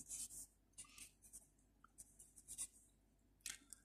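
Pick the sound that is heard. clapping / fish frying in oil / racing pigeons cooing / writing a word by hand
writing a word by hand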